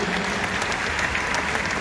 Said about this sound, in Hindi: Once again, give them a clap.